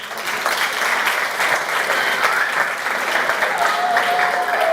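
An audience at an empowerment hub event claps together in dense, continuous applause that holds steady and fills the room for the whole stretch, with no break or fade.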